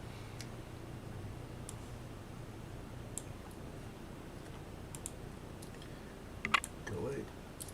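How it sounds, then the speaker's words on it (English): Sparse, soft keystrokes tapped on a computer keyboard while entering commands into a 3D printer console during setup, scattered single clicks under a low steady hum, close but faint. "I'll be typing over here onto the console"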